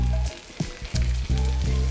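Sticky rice frying in hot oil in a pan gives a steady close sizzle with crackling pops and brief stirring scrapes, no voices.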